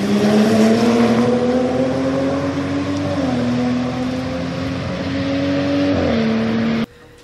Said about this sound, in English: the faint exhaust note that the stock car has going around the Nürburgring